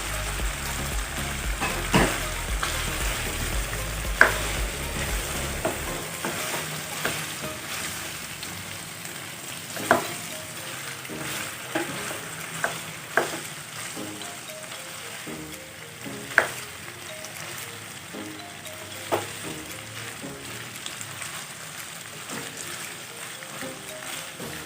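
Garbanzo beans stir-fried in a pan for a chicken and tomato dish, steady sizzling with scattered sharp clicks and scrapes of stirring, a louder low rumble fading after the first few seconds.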